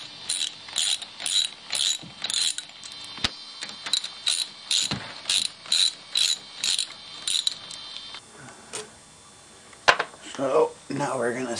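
A hand ratchet loosens fasteners near an engine thermostat, giving a steady series of about a dozen close, crisp clicking bursts. A voice and some clunks follow after the ratcheting stops.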